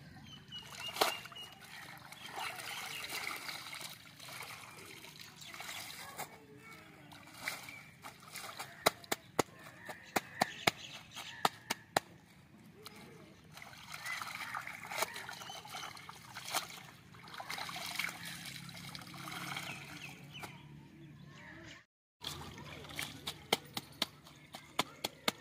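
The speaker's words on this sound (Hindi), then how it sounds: "ये मेरी अम्मी कपड़े धोने आई हुई है तो अब ये धो रही है।" Cold canal water sloshes and splashes continuously as clothes are hand-washed, with trickling and occasional slaps; speech comes and goes over it.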